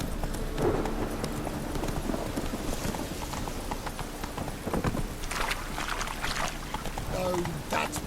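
A horse gallops through The Witcher 3, its hooves clip-clopping in a fast, continuous rhythm, loud and close, over a busy mix of game ambience and scattered sound effects.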